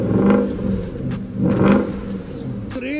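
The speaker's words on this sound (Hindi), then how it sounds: "यार इसका स्टॉक एग्जॉस्ट है, इसी में क्या ग्राउल और क्या बर्बल आ रही थी" A BMW E90 with its stock exhaust revs up twice, giving a deep growling swell that rises and falls in strong, close bursts, with a brief higher whine near the end.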